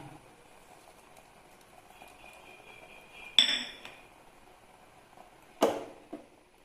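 A lid is set onto a pot of tomato rasam after the flame is turned off, giving two sharp metallic clinks a couple of seconds apart, with a faint rattle after each in an otherwise quiet kitchen.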